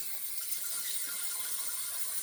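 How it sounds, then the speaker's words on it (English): Water dumped out of a shaving bowl during a wet shave, a continuous bright splashing pour heard close and alone. "I got my bowl here, dumped out the water, brush right in the bowl for next pass."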